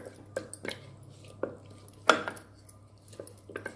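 Dry fruits are mixed into homemade gulkand made from rose petals, with a few soft spoon clinks and sticky squelches against the bowl, quiet and sparse.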